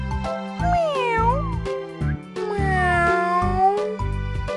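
A cat meows repeatedly, loud and close, in several drawn-out, wavering cries with short gaps between them. A steady low hum runs underneath.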